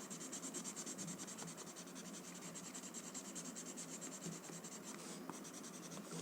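A blending stump brushes and smooths a drawing on paper, a faint, continuous close-up scratchy rub with no pauses and no voices.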